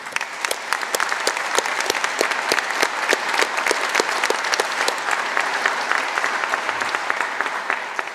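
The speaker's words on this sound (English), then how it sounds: "can I just offer you all to give yourselves a massive round of applause" Graduates at a university ceremony give themselves a big round of applause, a dense, sustained crowd clapping that stays loud and even from start to finish.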